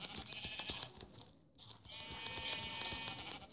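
Sheep in a video game bleat with a steady bright tone, briefly dropping out before resuming, faint and continuous amid clicking game sounds.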